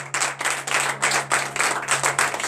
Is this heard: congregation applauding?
yes